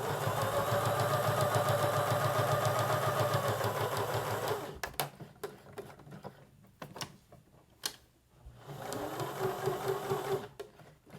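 A sewing machine stitches fabric for a pouch made from a hot pad, running in a fast steady whir for several seconds, then stopping and starting in short bursts as the work is turned at corners.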